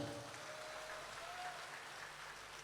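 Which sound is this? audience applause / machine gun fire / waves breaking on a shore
audience applause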